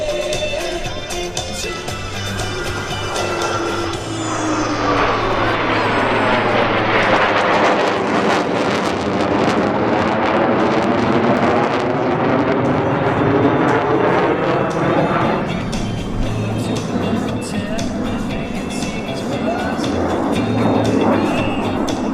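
A US Navy Blue Angels jet display at the Quonset airshow in Rhode Island: a loud, continuous jet roar sweeps overhead with a rising and falling whine, buffeted by wind on the microphone.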